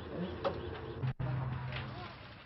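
Pigeons in a pigeon loft give soft, low cooing calls in short bursts, fairly close, over a steady murmur of background noise and light talk.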